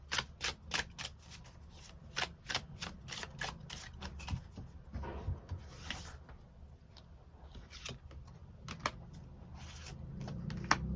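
Tarot cards being shuffled by hand, a rapid series of crisp riffling bursts and soft slaps that repeat in quick rhythm, close and clear, with no talking.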